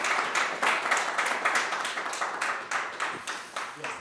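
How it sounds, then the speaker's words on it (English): Audience applause for Dr. Michael Goodchild after his lecture at the Nolanville Smart Museum: a modest crowd clapping in a steady, rhythmic patter that gradually thins out. "give Dr. Goodchild another round of applause"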